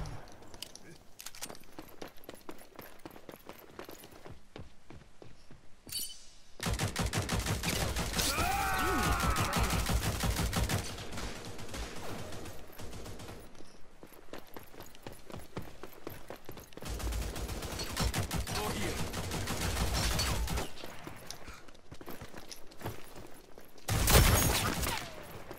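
Pistol and shotgun fire in the online shooter Rogue Company, with long bursts of rapid gunfire in separate waves, quieter stretches of footsteps and clatter between them, and a loud blast near the end.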